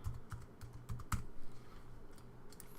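Fingers tap on a computer keyboard, a short run of close, distinct key clicks with uneven rhythm that taper off toward the end.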